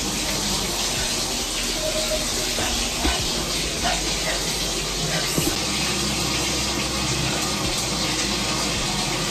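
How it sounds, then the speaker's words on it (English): Shower water running in a bathroom, a steady broadband hiss and splatter that carries on unbroken and fairly loud, with a few faint knocks underneath. "I'm about to hop in the shower real quick"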